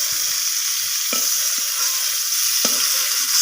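Cauliflower florets frying in hot oil, a dense continuous sizzle, close and fairly loud, broken by a few sharp scrapes and knocks of a spatula turning the pieces, with no talk.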